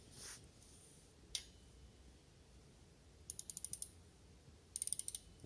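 A ratchet loosens 8 mm bolts on a brake rotor, heard as two short, quiet trains of rapid clicks late in the moment. The clicks sit over a faint background hiss, with one isolated tick earlier.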